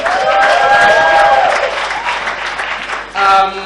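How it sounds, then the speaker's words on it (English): A comedy audience applauds a gospel choir in a loud, full burst of clapping and crowd noise, with sustained sung or musical tones threading through before fading, then a short surge near the end. "A round of applause for them again."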